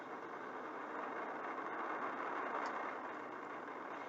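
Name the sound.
SLS rocket launch, four RS-25 engines and solid rocket boosters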